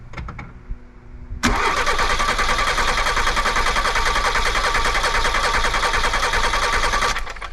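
A Peugeot 205 GL cranks under a compression test, its starter churning loudly and rhythmically for about six seconds after some quiet handling noises, then stopping.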